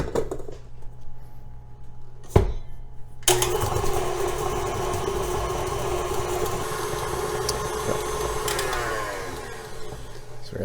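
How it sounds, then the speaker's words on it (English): An electric mixer creams sugar and unsalted butter for soft gingerbread cookies, starting abruptly and whirring steadily at close range with a continuous motorized hum and a slight rising whine near the end. "We're going to pop it on the electric mixer."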